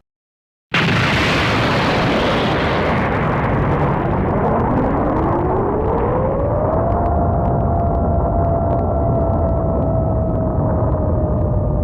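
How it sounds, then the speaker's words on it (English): A huge explosion effect from a Dragon Ball animation, where a combined attack by Goku and Vegeta blows up: a sudden loud blast gives way to a sustained roaring rumble with a rising tone, alone and steady to the end. "colliding with Goku and Vegeta, creating a huge explosion."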